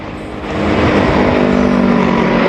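A motorbike rides over a bumpy bridge on the way into Meikarta, Jakarta, giving a steady close road-and-wind roar with a low rumbling engine that builds quickly after a brief quieter start.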